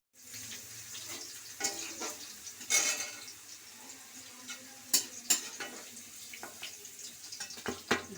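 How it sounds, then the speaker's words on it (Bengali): Green beans frying in a pan for vegetable fried rice give a steady sizzle broken by sharp scraping stirs and clatters of the spatula, close and fairly loud. "ভাজা হয়ে গেল বিনসটা,"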